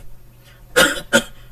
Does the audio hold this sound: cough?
yes